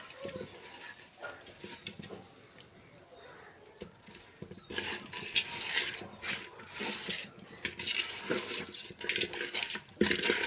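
Fish pieces being rubbed with salt, chilli powder, turmeric and oil for a tamarind fish curry, giving soft wet squelches and scattered clinks of hands and utensils against a bowl, growing busier and louder in the second half.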